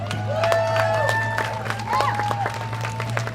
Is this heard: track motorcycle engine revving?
no